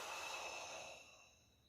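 A single forceful exhale during a breathing exercise paired with punches, air pressed out in a breathy rush that fades over about a second, close and quiet.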